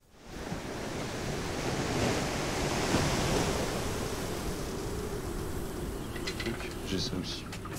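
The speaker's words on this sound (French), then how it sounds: "une tempête s'abat sur les Cyclades" A storm driven by the Meltem north wind batters the Cyclades, loud continuous roar of wind and crashing surf with heavy gust noise on the microphone, steady throughout.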